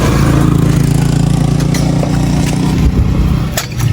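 A motorcycle fitted with an SC Project exhaust, its silencer removed, runs loud and close with a deep rumbling idle and a low, steady throb, easing off near the end.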